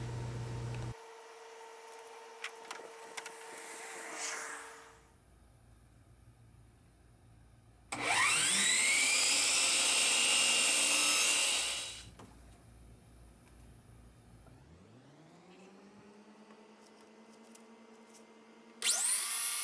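A power saw spins up with a loud, high whine, cuts through a wood piece for a rustic TV frame, then winds down, with quieter motor whirring and mechanical sounds before and after.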